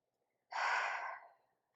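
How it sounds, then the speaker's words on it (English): A single deep, close breath is drawn in through the nose during a gentle yoga session, a soft rushing inhale of about a second that fades out into quiet. "just take a full breath in"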